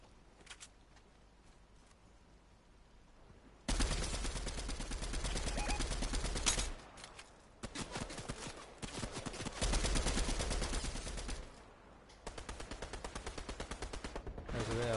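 Sustained automatic gunfire in a video game: long, dense volleys of rapid shots roar for several seconds at a time, broken by brief pauses and softer stretches, with the firing resuming in steady rattling streams.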